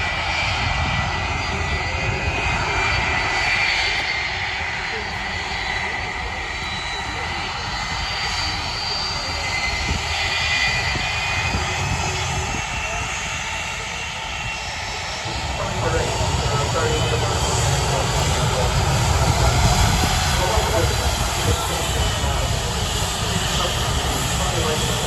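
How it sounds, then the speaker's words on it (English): A Jet2 Boeing 757 arriving from Barcelona at Manchester, its jet engines producing a broad, steady roar and hiss that swells slightly toward the end, with a voice talking intermittently over it. "This aircraft has arrived from Barcelona."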